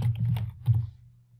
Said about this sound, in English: we can come in here and simply type in 2 by 12 floor joists